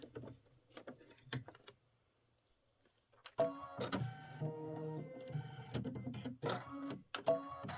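Sewing machine stitching background quilting on a mini quilt starts after a few quiet seconds of light clicks, running in steady bursts with short stops, close and alone.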